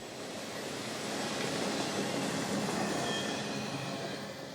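A CSX freight train, M584, rolls along the W&A line in north Georgia, a loud, steady rumble of wheels and cars that swells slightly and holds without a break, with no voices.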